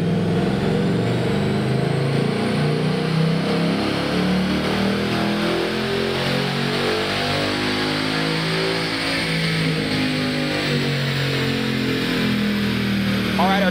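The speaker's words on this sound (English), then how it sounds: "before the supercharger is installed, we are going to dyno our 2018 GT" A 2018 Ford Mustang GT Performance Pack, still stock before a supercharger install, revs steadily on a dyno, its engine a loud, continuous drone climbing through the run for about fourteen seconds.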